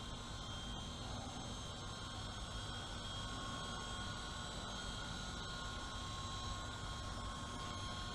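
A WLToys V915 Lama RC helicopter flying on low power, its steady whirring motor and rotor drone continuous and fairly faint throughout, with no talk.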